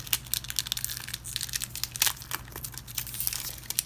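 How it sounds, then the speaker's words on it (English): A 1992 Fleer football card wax pack being torn open by hand, giving close, faint crinkling and tearing of the wrapper in irregular bursts. "wax packs, these ones are a little bit of a bugger to open"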